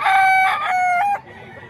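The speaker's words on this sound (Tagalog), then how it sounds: "Pero ang gandang manok." An SBR Banahaw gamefowl rooster gives one loud, close crow lasting just over a second, with a rising start and a held, wavering tone that cuts off sharply into quiet background.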